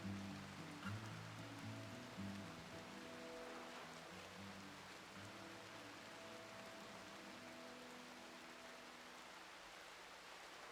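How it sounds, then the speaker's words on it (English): Steady rain falls in the video game RimWorld, a soft, even hiss of rain on the ground that keeps going without a break and stays quiet throughout. "Some nice rain to wash away the blood from all the boars"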